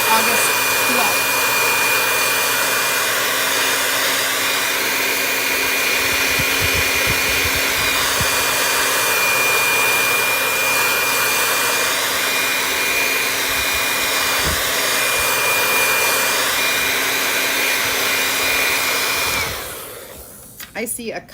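A hair dryer blows steadily on wet paint on a football door sign, a loud, constant whir that runs unbroken for about twenty seconds before switching off near the end.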